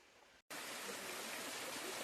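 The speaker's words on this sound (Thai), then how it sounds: "สำหรับ บรรยากาศของน้ำตก" After a brief quiet moment, a loud steady rush of falling water and flowing stream at Huai Chan waterfall in Sisaket, Thailand, fills the scene, constant and close.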